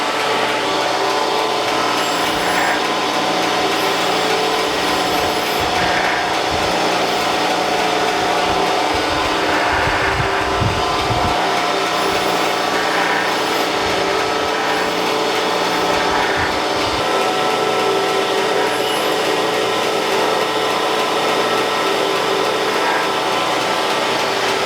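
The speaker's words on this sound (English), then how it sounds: "so we're going to get this wheel dressed and grind this chuck in." A surface grinder's abrasive wheel being dressed with a diamond, a steady loud machine whine with broadband grinding hiss running continuously throughout, with brief low rumbles midway.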